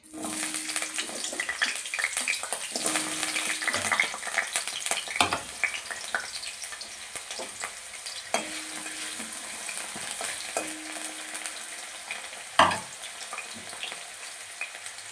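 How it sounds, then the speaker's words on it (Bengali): Potatoes fry in hot oil that was already used for pointed gourd, with a steady close sizzle, occasional stirring scrapes and one sharper clatter, no talk. "আমি ওই তেলেই আলু কটা ভেজে নেব"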